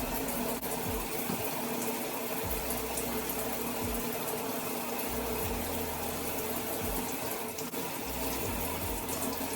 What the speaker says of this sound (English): So I'm giving it a rinse and going with my second shampoo.